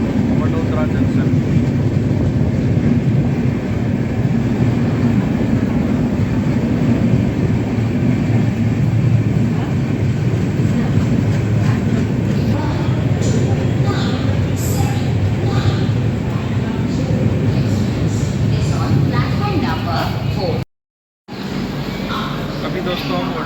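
The Lokshakti Express, running from Ahmedabad to Mumbai Bandra, pulls into Vadodara Junction: a steady, loud rumble of wheels and carriages heard from on board, continuous throughout, broken by a brief dropout near the end.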